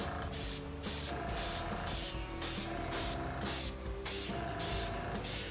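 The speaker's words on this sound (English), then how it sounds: "As you hear it, every time I pull the trigger, it starts spraying." A single-stage paint spray gun hisses in repeated short bursts as the trigger is pulled and released, six or so evenly spaced blasts up close while painting a model F7F Tiger Cat aircraft.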